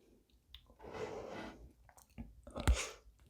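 Close, wet chewing of extra hot spicy chicken-flavour mi goreng noodles, a few soft irregular bites and mouth sounds with a louder crunch-like click near the end, no talking.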